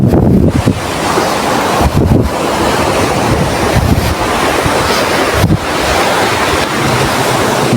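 Seawater surges into a coastal creek on the Konkan shore as waves wash in continuously. The roar of the surf is loud and close, buffeted by heavy wind gusts against the microphone.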